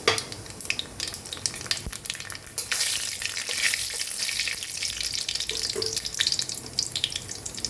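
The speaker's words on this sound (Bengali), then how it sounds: "দুটো শুকনো লঙ্কা ফোড়ন দিলাম, কালো জিরে ফোড়ন দিলাম" Dried red chillies and nigella seeds sputter in hot mustard oil, a steady dense crackling sizzle with sharper pops throughout, loud and close, with no voices.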